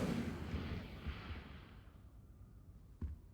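Incendio fire spell cast in Hogwarts Legacy, a loud whooshing burst of flame that dies down over a couple of seconds, followed by a short sharp pop near the end.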